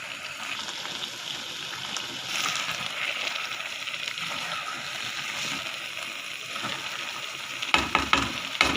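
Carrots simmering in nearly reduced milk for gajar halwa with green cardamom, a steady close sizzle and bubbling with stirring scrapes, ending in a few louder clatters and splashes.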